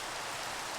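Steady rain falls in the Minecraft video game, a dense, even hiss of patter that fills the whole short stretch at low level with no voices.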